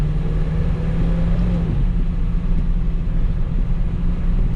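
A classic Chevrolet Impala with a 4.6-litre, 220-horsepower V8 and a two-speed Powerglide gearbox runs with a steady, close, deep rumble and hum that holds evenly throughout.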